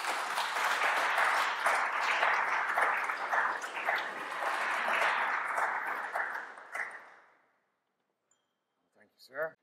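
Applause from a conference audience greeting a speaker, a broad wash of clapping that swells, then fades out over several seconds before a few faint clinks and a short sound at the end.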